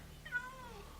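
A kitten mob in a modded Minecraft game gives a single short, thin meow with a rising then falling pitch, faint over steady low background noise.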